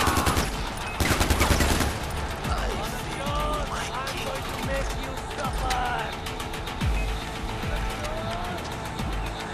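Gunfire in Far Cry 4, rapid automatic bursts crackling over vehicle engine noise and skidding, with people talking over the action.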